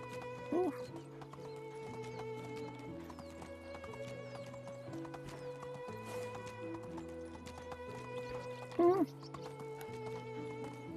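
Horse hooves clip-clop in a steady rhythm while riding in the video game Medieval Dynasty, with occasional whinnies and background music beneath.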